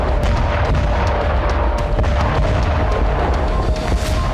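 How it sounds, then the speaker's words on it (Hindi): A continuous, loud rumbling roar with dense low-end energy and scattered sharp cracks from a missile explosion and its aftermath heard from a distance. "रूस ने मिसाइल विस्फोट किया"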